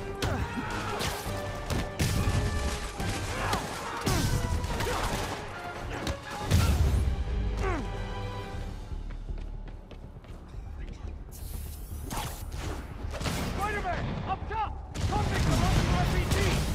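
Video game gunfire crackles in loud, irregular bursts of sharp shots and heavy impacts throughout, with voices mixed into the steady din.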